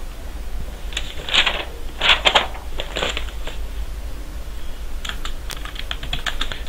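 Someone types on a computer keyboard during C programming work, with short bursts of clicking keystrokes separated by brief pauses. The typing is close and clear over a faint steady background hum.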